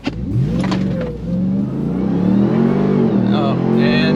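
A 2021 Ram 1500 TRX launches hard in a drag race, its engine revving loudly and climbing in pitch through a gear change, close and dominant, with voices heard briefly over the roar.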